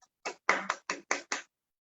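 Six sharp, separate hand claps welcoming a speaker at a product training session, spaced in a quick uneven rhythm with silence between them and no crowd swell.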